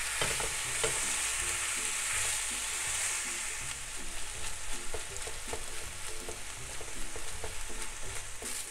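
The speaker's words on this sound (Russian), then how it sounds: "А затем выкладываю на сковороду фарш 500 граммов" Minced turkey, 500 grams, sizzles and crackles steadily in a hot frying pan, with occasional stirring scrapes, no talking.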